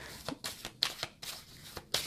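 Dear Heart Oracle cards being shuffled by hand in a few quick riffling bursts, close up and distinct, with no talking.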